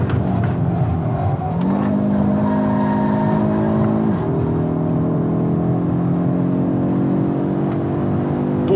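A new Audi RS3 is driven hard on a race track. Its engine holds a loud, close, steady drone, climbing in pitch and dropping back as it shifts gears.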